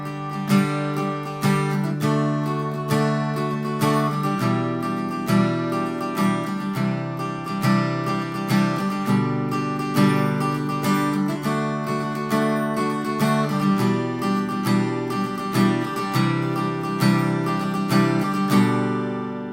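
Steady strummed chords on an acoustic guitar, with a regular rhythmic pattern continuing for about twenty seconds, no voices.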